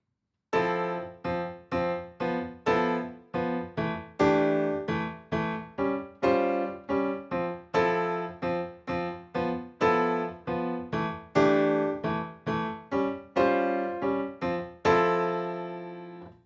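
A piano plays short, evenly spaced left-hand chords in a syncopated, repeating samba partido alto rhythm, clear and close with no other instruments.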